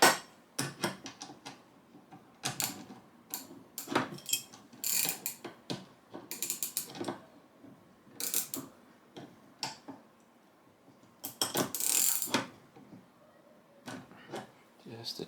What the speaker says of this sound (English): So let's just take a little bit off the bolts.